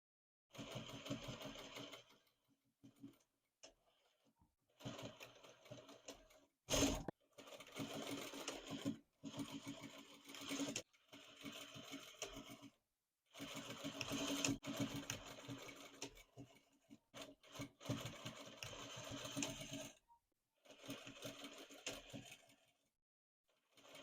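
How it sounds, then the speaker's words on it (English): A serger runs in repeated fast bursts, stitching the hem of a checkered t-shirt dress, with short pauses between runs. It is close and steady, with no voices. "start serging just so it stays in place"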